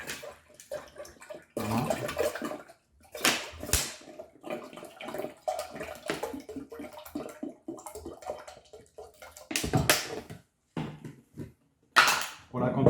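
About one and a half litres of tap water splash and gush into a cooking pot for artichokes in a home kitchen, in uneven bursts, with someone speaking.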